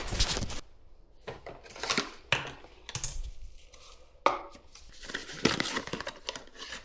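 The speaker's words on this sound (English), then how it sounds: "Now I'm going to mix up the dark color so it's ready to go" Hair dye being mixed in a bowl, with irregular clinks, scrapes and taps of a brush or tool against the bowl, close and sporadic, separated by short quiet gaps.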